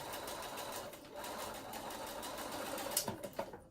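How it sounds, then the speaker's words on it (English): A sewing machine stitching fabric along a marked line in foundation piecing, a fast continuous mechanical whir close by that runs steadily and then breaks into a few clunks as it stops. "flip it over and stitch on the line"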